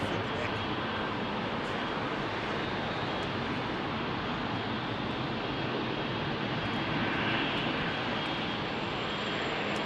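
A heavy jet airliner departing Heathrow roars steadily and loudly for the whole stretch, a broad continuous engine rumble and hiss from the runway with no speech over it.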